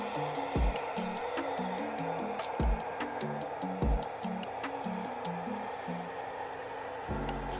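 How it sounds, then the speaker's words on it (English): Hot air blower heating the edges of vinyl wrap on a car, a steady fairly quiet whirring hiss held throughout, with a few soft knocks and handling sounds over it. "is basically heating the edges of your vinyl wrap to make sure it clings"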